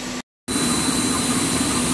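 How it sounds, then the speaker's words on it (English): A face mask nose bar machine producing nose bridge bars runs with a steady mechanical hum and broadband whir, briefly cut out near the start, then continuous and loud. "This is the nose bar machine. It produces the nose bridge bar for the face mask."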